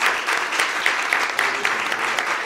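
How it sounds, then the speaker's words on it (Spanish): A congress audience of legal scholars gives the speaker a round of applause, a brisk, dense burst of clapping filling the hall for a couple of seconds. "Le brindamos otro aplauso al doctor."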